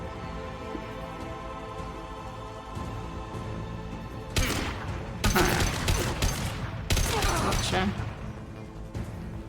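Gunfire in the video game Mass Effect 2 comes in several loud, sharp bursts in the second half, over quiet game background, with someone speaking briefly.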